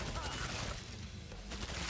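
Rapid gunfire from a weapon in Killing Floor 2, a dense burst of shots that thins briefly midway before resuming, with talk faintly underneath.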